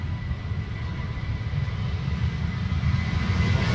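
A Ryanair airliner passes at Manchester Airport with a steady, low, rumbling engine drone, fairly distant and continuous, with no voices.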